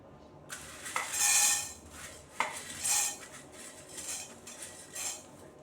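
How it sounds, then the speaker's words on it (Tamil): Red chillies and coriander seeds dry roasting in an empty kadai, stirred with a metal spoon: a few bright scraping clinks against the pan over a quiet background. "ஒரு நாலஞ்சு காஞ்ச மிளகா ஒரு ரெண்டு ஸ்பூன் தனியா கொத்தமல்லி இதை நம்ம வெறும் கடாயில் போட்டு வறுத்து எடுத்துக்க போகிறோம்"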